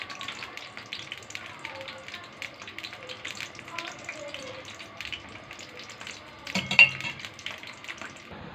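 Croissant dough fries in oil in a pan at home with a soft, steady sizzle, mixed with clinks of utensils and dishes and a louder clatter near the end.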